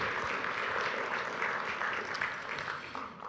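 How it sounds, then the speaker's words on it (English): An audience gives a polite courtesy golf clap: steady, light, dense clapping from many hands for about three seconds, fading slightly at the end. "Nice courtesy golf clap."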